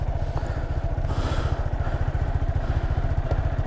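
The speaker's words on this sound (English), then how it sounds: "My bike's making weird ass noises." Motorcycle with a broken rear brake bracket, riding in rain, giving a steady low rhythmic engine pulse with irregular clattering and rattling over it, close and fairly loud.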